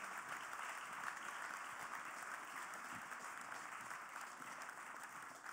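A crowd applauding steadily, dense clapping that holds at an even level for several seconds, heard from a little distance.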